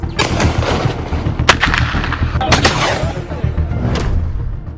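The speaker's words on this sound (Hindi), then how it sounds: "गानों में गोलियों की आवाज" Loud gunshots burst in rapid succession, several sharp cracks with booming echoes following one another over a dense background, resembling the gunfire featured in songs and social media reels glamorizing gangster culture.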